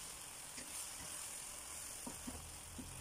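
Sauce for a Chinese eggplant and tofu skin stir-fry cooks over high heat in a pan, making a faint, steady sizzle with a few soft stirring knocks toward the end.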